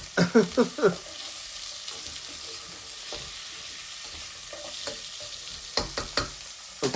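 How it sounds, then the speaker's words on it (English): Onions fry in basil-infused olive oil with a soft, steady sizzle, broken by quick clusters of spoon-scraping stirs near the start and again toward the end, all heard close up with no talking. "fried onions smell nice anyways, but when fried in that basil infused olive oil, wow, that is amazing."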